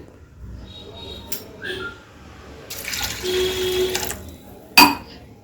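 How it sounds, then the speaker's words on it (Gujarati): Water pours steadily into a pot of dal for about a second, with quieter kitchen clatter and a sharp clink near the end. "હવે આપણે એમાં પાણી એડ કરીશું"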